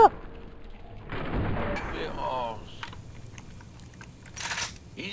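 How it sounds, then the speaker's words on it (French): A robot scorpion explodes in the video game Fallout: New Vegas, a rumbling blast followed by crackling debris and a fading rattle, with a player talking over it. "Alors, ça donne quoi l'explosion d'un robot scorpion?"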